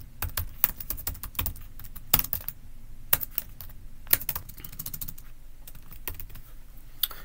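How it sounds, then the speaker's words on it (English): Quick typing on a computer keyboard while entering code, a rapid irregular patter of key clicks with several sharper louder strokes, close and steady throughout, with no voice. "I'll type all these out real quick"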